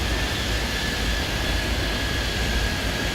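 A steady jet-engine roar from an airliner taking off in the Airport Madness 3D airport game, loud and unbroken throughout with a faint high whine above the rumble.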